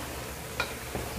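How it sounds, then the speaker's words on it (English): Macaroni pasta stirred in a frying pan, with soft scraping strokes of a spoon against the pan over a continuous close sizzle, two brief stirring sounds standing out. "Tunazikoroga"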